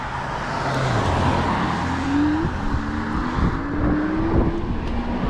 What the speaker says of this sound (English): This is usually a pretty busy road here, and because you've also got traffic coming from an angle this other direction